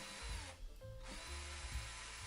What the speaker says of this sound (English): I could then drill out these holes,